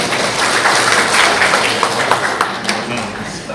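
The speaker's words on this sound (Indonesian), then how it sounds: "Tepuk tangan untuk kita semua." Audience applause at a school try-out results event, with a burst of brisk clapping from a crowd in a hall that fades toward the end, with voices mixed in.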